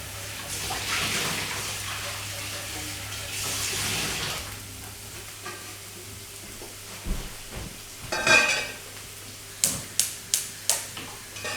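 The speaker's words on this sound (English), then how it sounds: "I'm just going to rinse out my pan." Water runs into a pan at a kitchen sink as it is rinsed out, a steady wash of flow for the first few seconds, then quieter splashes and a few sharp clinks of the pan near the end.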